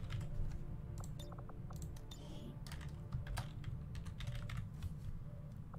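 Someone types on a computer keyboard in a darkened room, a quick irregular run of sharp key clicks over a low steady background hum.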